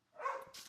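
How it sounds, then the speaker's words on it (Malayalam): A single short dog bark sounds close but fairly quiet, a brief yelp heard alone in a home kitchen setting. "പട്ടി"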